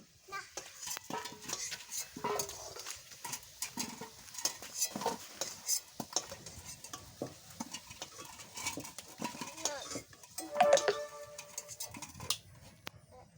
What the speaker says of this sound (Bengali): আলুটা ভাজা হয়ে গেছে, এবার আমি তুলে নেব